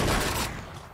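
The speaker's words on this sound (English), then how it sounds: "You keep coming. I keep shooting." Gunfire in the video game Agents of Mayhem gives a brief, loud burst of rapid shots that fades within a second.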